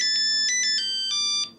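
A mobile phone ringtone chirps in short repeated electronic bursts, loud and close, with a brief gap near the end and no voices over it.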